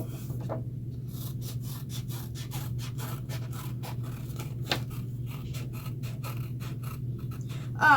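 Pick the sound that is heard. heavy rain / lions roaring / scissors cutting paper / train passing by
scissors cutting paper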